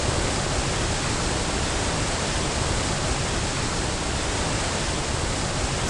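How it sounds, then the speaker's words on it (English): A loud waterfall roars in a temple chamber in Indiana Jones and the Emperor's Tomb, a dense, unbroken wash of rushing water that stays constant and close throughout. "That waterfall's very loud."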